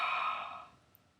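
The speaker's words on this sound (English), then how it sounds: "exhale forcibly out of the mouth" A single forceful yoga exhale pushed out through the open mouth, a loud breathy rush that trails away within about a second.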